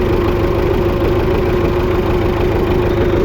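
An MTZ tractor engine idles steadily with a cultivator attached, a loud, continuous low rumble with even pulsing and no voices.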